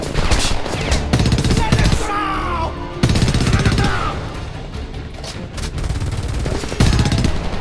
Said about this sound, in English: Machine gun, second floor window! Oh, dude, machine gun.